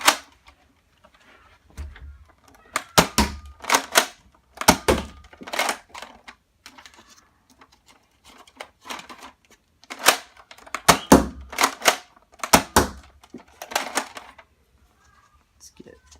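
A Nerf Mega Doublebreach blaster fires round after round in clustered bursts of sharp, punchy thunks with brief pauses between volleys, close and loud.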